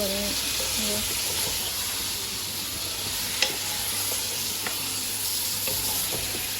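Cauliflower florets frying in a hot pan give a steady, loud sizzle and hiss, broken by a few soft clicks of stirring and a faint voice in the background.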